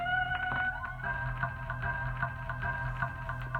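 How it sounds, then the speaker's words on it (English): A crackling, bubbly beat loops steadily with a swirling, sweeping phaser texture over tonal hits and a low bass bed, no voices. "Now watch what this phase will do to the track."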